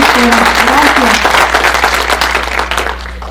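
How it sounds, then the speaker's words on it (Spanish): An audience at a lecture on number theory and cryptography applauds to welcome the speaker, steady clapping throughout with a voice talking over it at first, the clapping thinning toward the end. "Les pido que le demos un aplauso para que se anime."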